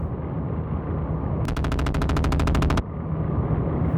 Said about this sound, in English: So I'm going to switch over my weapon selection to the machine gun.